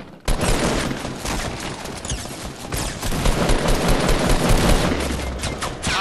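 Rapid sustained gunfire in a Fortnite duos match crackles continuously, dense and loud, with a burst of automatic fire near the end and no talking.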